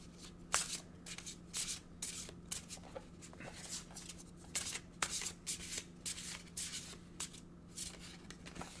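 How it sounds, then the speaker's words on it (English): Oracle cards are shuffled by hand in a quiet room, making a run of soft, papery riffles and flicks in irregular bursts against a low, steady background hum. "let's get an oracle card"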